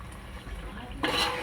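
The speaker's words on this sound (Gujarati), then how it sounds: "આપણે હલાવશું।" A spoon stirring tomato gravy with garlic and onion in a pan, soft scraping and faint sizzling at first, then a louder burst of scraping and frying near the end, close by.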